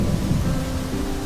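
Steady rain falls in cold spring weather in snub-nosed monkey habitat, a dense close hiss with a low rumbling undertone throughout the brief stretch.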